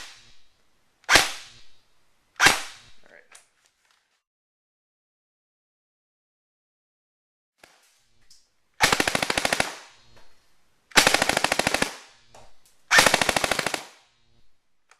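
An ECHO 1 MTC3 airsoft rifle fires on a range: two sharp single shots, a long pause, then three loud full-auto bursts of rapid, evenly spaced pops, each lasting about a second, with no voices.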